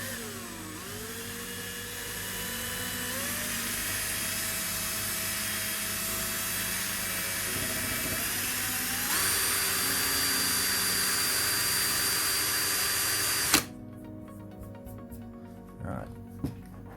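A power drill spins sandpaper to shape a handmade fine-detail paint brush, its whine rising in pitch in steps over several seconds before cutting off abruptly, leaving quieter handling noises.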